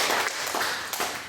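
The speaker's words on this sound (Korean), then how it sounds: "박수 한번 좀 부탁드리겠습니다." Church congregation clapping at a thanksgiving service, a brief burst of dense, fairly close applause with no one speaking over it.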